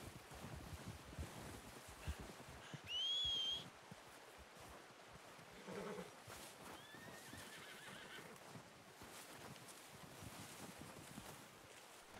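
A horse whinnies in Red Dead Redemption II, a short high neigh over steady outdoor wind and hoof clip-clops, followed later by a fainter second whinny.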